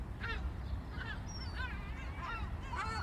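Seagulls calling at a fishing spot while feeding on fish frames, several short, nasal squawking cries repeating over a steady low background rumble, moderately distant.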